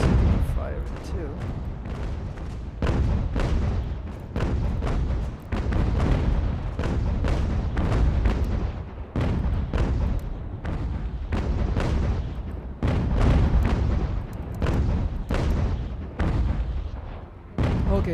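Cannons fire again and again in a naval battle video game with British forces at sea, the booming shots coming in irregular dense volleys with short gaps, and a voice talking over the barrage.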